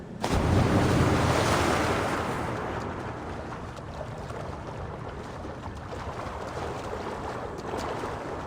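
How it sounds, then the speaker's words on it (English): Water in a pool of melted ice from Assassin's Creed Valhalla washes and rushes in a broad, steady roar that swells loudest at the start, then settles into a continuous churning wash. "Pool of water from all that melted ice."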